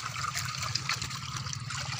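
Water trickles steadily into a fishpond, a continuous close splashing and dribbling flow with a low gurgling undertone and no talk.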